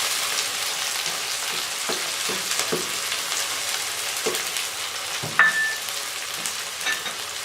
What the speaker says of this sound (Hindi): अब हम इसमें टमाटर को भूनेंगे